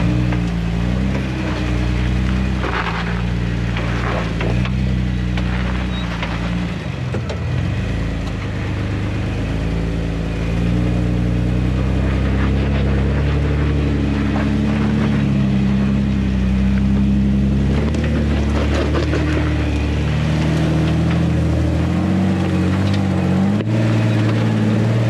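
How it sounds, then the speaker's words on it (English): A Trailmaster engine runs loud and close with a steady, throbbing hum and small rises in pitch, continuous for the whole stretch with no voices. "crank it over a couple times with a wrench, and then fire it up"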